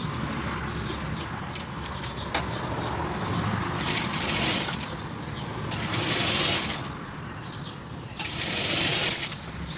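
A sewing machine stitches double cord piping onto a garment neckline, its needle running in bursts of rapid mechanical whirring with short pauses between runs, close and fairly loud.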